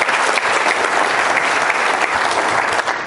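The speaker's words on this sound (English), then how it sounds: "Give them a round of applause." An audience applauds at a talk, a steady burst of clapping from a crowd that stays even and sustained for a few seconds without voices.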